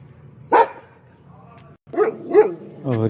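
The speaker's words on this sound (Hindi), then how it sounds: "बाहर दूसरे कुत्तों का भौंकता हुआ, ये वैसे भौंकता रहता है बाहर" A farm dog outdoors in a village barks at other dogs, giving a single sharp bark followed by a few yelping, whining barks a moment later, fairly close.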